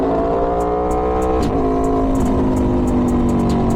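Aprilia Tuono V4 motorcycle fitted with an LV Corsa carbon exhaust, revving hard close up: a loud, raspy engine howl that climbs and dips, with sharp gear-shift blips and crackles and no voices.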